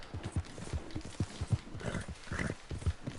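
A horse gallops in Red Dead Redemption 2, its hoofbeats pounding in a quick, uneven clip-clop rhythm, close and fairly loud throughout.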